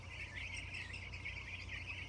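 Meat chickens in a backyard chirp and peep steadily and softly, a continuous overlapping chatter of many birds with a low hum underneath, no voices present.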